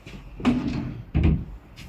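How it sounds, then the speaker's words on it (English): Hotel room drawers at the Norbreck Castle in Blackpool being pulled open and pushed shut, giving two short, close wooden knocks about a second apart in a quiet room. "Right, so we're just checking the drawers."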